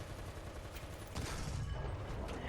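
Several machine guns on a Panzer 35(t) tank fire in War Thunder, a dense, steady rattle of rapid shots with booming low rumble, continuous and fairly near, with no talking.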